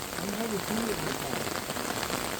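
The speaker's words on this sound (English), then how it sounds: "Hope it stops raining soon." Heavy rain falling during a June flood in Anne Arundel County, Maryland, a steady close hiss of drops on surfaces with a faint voice briefly audible underneath.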